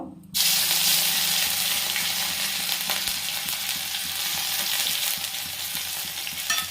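Grated ginger drops into hot oil with whole cumin seeds in a wok, bursting into a loud, steady sizzle that carries on with a crackling hiss, near and alone.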